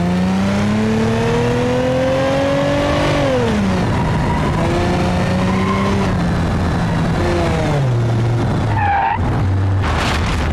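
The base sedan with a 2.8 liter V6 in BeamNG.drive, from the Bruckell M body mod pack, revs up through rising gear pulls and drops back between them, loud and close. A tire skid and a heavy bang follow near the end.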